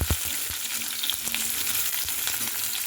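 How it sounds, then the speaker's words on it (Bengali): Potatoes and chopped carrots stir-fried in a pan, a continuous bright sizzle with occasional scraping knocks of a spatula against the pan, close and steady with no talk. "তো গাজরটাকে দিয়েও কিন্তু খুব ভালো মতো করে নাড়াচাড়া করে নেব।"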